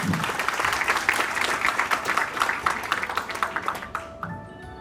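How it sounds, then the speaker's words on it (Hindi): Family gathering applauding two brothers for buying their new Tata Tigor XZ+ car, a close, lively burst of many hands that settles into rhythmic, unison clapping before fading out. "आप सब लोग उनके लिए तालियां बजा दें।"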